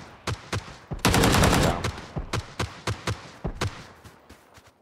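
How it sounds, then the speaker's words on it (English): Rapid automatic gunfire in PLAYERUNKNOWN'S BATTLEGROUNDS: a few single shots, then a dense sustained burst, followed by a steady string of evenly spaced loud cracks, close and prominent with no talk. "Someone shooting me."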